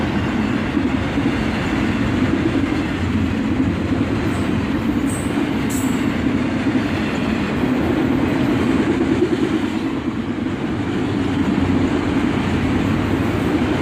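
A BNSF freight train led by an AC44CW locomotive rolls steadily past at dusk, a loud, continuous rumble of wheels and railcars with faint squeals and clatter, close by and sustained throughout without talking.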